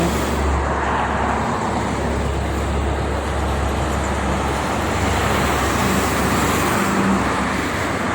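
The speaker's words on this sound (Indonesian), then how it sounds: "Truk barang semua." Cargo trucks rolling along the Jakarta–Cikampek toll road make a dense, continuous rumble of heavy traffic, with a steady low engine drone and tyre roar close by and no talk.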